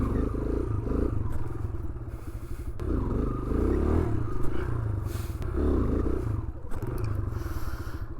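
A Kawasaki motorcycle engine idles and revs through throttle blips during beginner wheelie practice in Long Island, New York, loud and close with rough rumbling, some clattering and wind noise.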